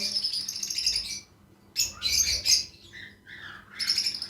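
Cockatiels from a breeder pair, male shown, give loud close bursts of high chirps and harsh squawks in two or three clusters separated by a short quiet gap.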